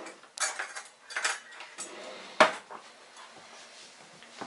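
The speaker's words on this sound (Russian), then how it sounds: "сейчас я беру вилку и буду все перемешивать" A fork stirring a cabbage salad with cucumber and green peas in a bowl, giving a few soft clinks and scrapes at an uneven pace, with one sharper knock partway through, close and fairly quiet.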